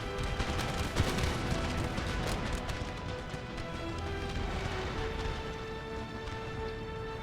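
Musket volleys crackle in an 18th-century Total War battle modded with Darthmod Empire, a burst of overlapping gunshots followed by scattered distant pops, faint and without talking.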